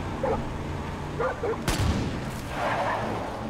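Gunfire in the video game Far Cry 5: a single sharp shot rings out amid a low rumbling game soundscape, with faint barking-like noises before it and a muffled swell after.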